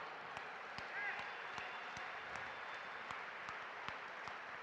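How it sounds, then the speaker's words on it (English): A crowd gives a round of applause at the 2017 Guns & Hoses event, a fairly faint, sustained patter with a few sharper claps standing out at regular intervals, and some voices under it. "Let's get one more round of applause here"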